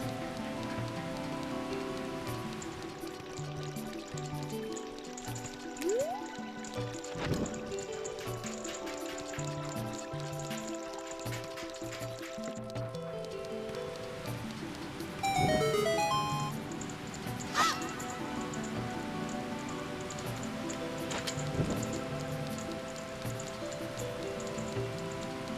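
Waterfall in the Legend of Zelda: Ocarina of Time video game, a steady dense rushing hiss of falling water throughout, layered under game music and a few brief effect sounds.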